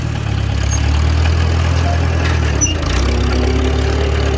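A Farmall B tractor idles and turns around in place during cultivating, its engine putting out a loud, steady low chug with a brief squeal partway through.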